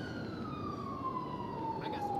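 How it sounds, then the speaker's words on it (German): An ambulance siren in a GTA roleplay game wails steadily in a single long falling tone over a rumbling background, fairly close and clear. "Guck, der Krankenwagen kommt auch schon."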